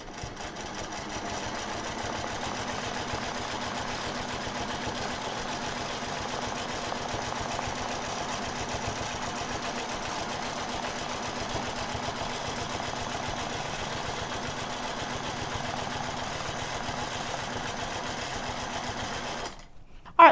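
A sewing machine runs continuously, stitching curves and arcs across fabric, its rapid, even needle chatter holding steady at close range for about twenty seconds before stopping abruptly.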